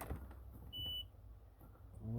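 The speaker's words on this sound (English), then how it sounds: "let's see if we hear a beep from the key" A 1997 GTS 717 car key gives one short, thin electronic beep, quiet against a faint room background with no talk.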